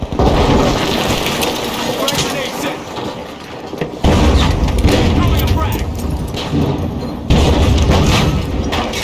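A grenade goes off in the competitive shooter The Finals, loud booming blasts at about four and seven seconds that swell into a roaring rumble over continuous noisy battle ambience and talk.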